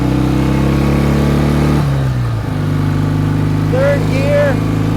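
A 1967 BSA Spitfire Mk III twin motorcycle runs loud and close, its engine note dropping briefly as a gear changes, then pulling again while a faint rising whine appears near the end.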